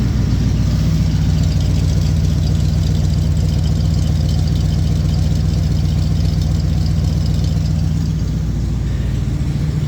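A Jeep J10 V8 with fresh plug wires and spark plugs idles steadily up close, a loud, even, throbbing thump with no talking.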